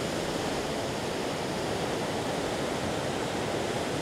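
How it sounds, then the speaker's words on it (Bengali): A strong river current rushes past a viewpoint in the Dooars near the India–Bhutan border, a dense, steady broadband roar of fast water with no pauses or voices. "দারুণ স্রোত এখানে।"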